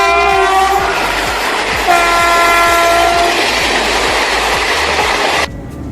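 A train rumbles past loudly with rhythmic clickety-clack from the wheels and a sustained horn blaring over it, ending abruptly.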